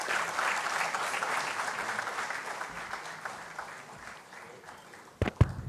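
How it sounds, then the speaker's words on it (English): Conference audience applauding steadily for about five seconds, a dense even wash of clapping that thins slightly toward the end, followed by a few louder close thumps. "Let's have a big round of applause."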